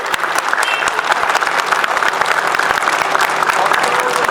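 Dense, steady applause from a large crowd at an outdoor Zafer Party political rally in Dalaman, Muğla, continuous and loud throughout with no pauses.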